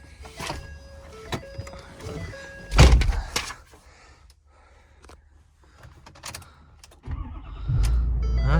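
A truck engine cranks and catches, preceded by clicks, chimes and a door thump, then settles into a low, steady idle rumble close by.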